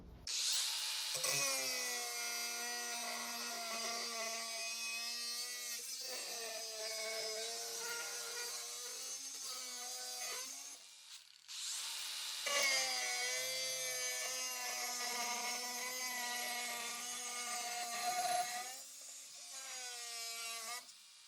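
A cordless angle grinder cutting 2 mm metal whines loudly with a steady high pitch, running in two long bursts separated by a brief pause, close up.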